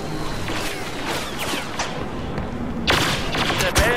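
Rapid bursts of blaster fire and firecracker-like explosions crackle through a Star Wars Battlefront match, a dense continuous barrage that swells into a louder volley near the end, with brief voices underneath.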